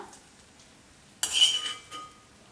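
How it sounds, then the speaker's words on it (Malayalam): Fried mustard-seed tempering is tipped into a simmering mixed vegetable curry, producing one sudden burst of hiss and clatter that fades over about half a second after a quiet start. "ഞാൻ ഈ കറിയിലേക്ക് നമ്മൾ കടുക് വറുത്ത ഐറ്റംസൊക്കെ ഇട്ട് കൊടുക്കുകയാണ്"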